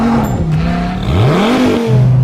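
An updated Nissan GT-R sports car accelerates hard on a racetrack, with a loud, close engine note that climbs in pitch, drops briefly at a gear change, then rises again.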